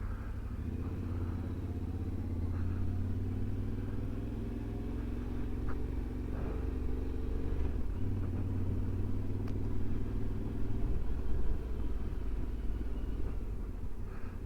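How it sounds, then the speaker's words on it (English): Steady road traffic rumbles past on a rainy day on a busy street near a movie theater, a continuous low engine drone with passing cars and motorcycles and no clear voices. "There's always traffic no matter what"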